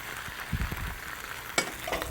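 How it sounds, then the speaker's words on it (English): Urad dal, drained Brussels sprouts, garam masala and spice paste sizzle softly in a pan, with a few stirring scrapes and a sharp clink against the pan. "Now we're going to saute it all up together"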